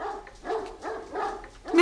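Dogs barking in a French-dubbed drama film, a run of repeated medium-loud barks at an even rhythm, about four in under two seconds, with no speech.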